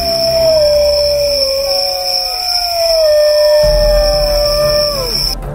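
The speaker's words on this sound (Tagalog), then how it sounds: "pagkadinig nila ng mga nakakakilabot na alulong sa buong paligid" Several animals howl together in long, eerie, overlapping wails that drift slowly downward in pitch under a steady high ringing tone, sustained and fairly loud throughout as a story effect.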